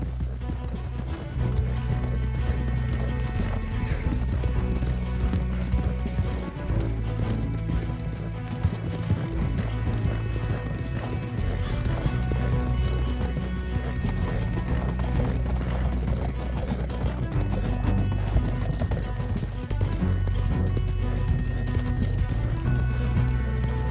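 Horses gallop steadily in Red Dead Redemption II, a continuous rhythmic clatter of hooves under a dense bed of music and ambient game sound that stays loud for the whole stretch.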